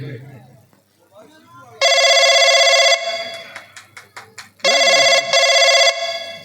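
Phone ringing in two loud bursts of electronic bell tones, with Hindi dialogue before and between the rings, set within a nautanki folk theatre performance.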